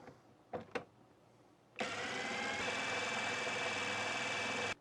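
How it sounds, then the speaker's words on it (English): A TapVolx 16.8 V impact driver on its first speed setting: after a couple of brief clicks, the motor starts abruptly and runs with a steady, loud whirring hum for about three seconds, close up and with no talking. "we're going to try the TapVolx on first speed and see what RPM we get"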